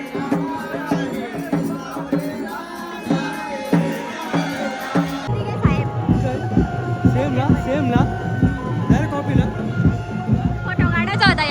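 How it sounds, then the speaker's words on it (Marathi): A large outdoor crowd at a temple fair (yatra), with dense, continuous babble and bustle close around, plus music or drumming running loud throughout. "बाहेर पण जाम गर्दी झाली"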